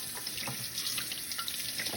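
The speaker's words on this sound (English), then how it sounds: "I put it under the water that's running." Cool running tap water flows steadily into a kitchen sink as a salmon fillet is rinsed under it, a close, continuous splashing rush.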